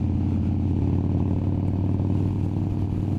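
A Harley-Davidson Dyna Wide Glide with an 88 twin cam motor, stage 2 upgrade and Vance & Hines exhaust rumbles steadily at idle nearby, a deep, loping low-pitched pulse with no voices.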